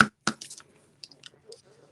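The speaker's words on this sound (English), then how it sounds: "Just come in with my ribbon scissors." Ribbon scissors cutting through fine art ribbon in a papercraft setting: two sharp, close snips in quick succession, followed by faint rustling and soft handling clicks.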